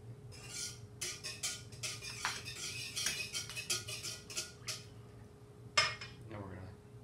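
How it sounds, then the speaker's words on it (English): A spoon stirring oil in a mixing bowl while making pizza dough, with quiet scraping and clinking taps against the bowl and a steady low hum in the background. "We'll stir this."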